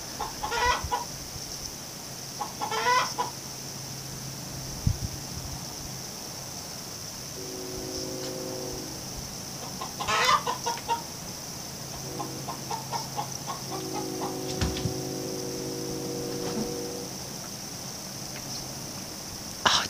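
Outdoors, a chicken clucks in scattered bursts, with a low distant horn-like train tone in between and steady high insect buzzing underneath.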